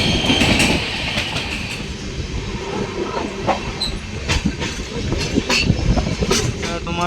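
A passenger train runs on the adjacent railway line, loud and close, with rumbling wagons, rhythmic clickety-clack of wheels over rail joints and occasional metallic squeals.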